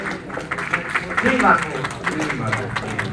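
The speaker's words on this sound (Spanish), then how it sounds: "Aplausos para él." An audience at a meeting of rondero farmers with a government minister on agrarian reform breaks into a steady patter of applause, with voices talking over it throughout.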